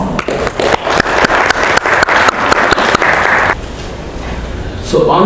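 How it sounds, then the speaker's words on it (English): Audience at a CII partner summit roadshow in South Korea applauding to welcome a speaker, a burst of rhythmic, fairly loud clapping that fades out, followed by a voice starting to speak. "Please welcome him warm round of applause"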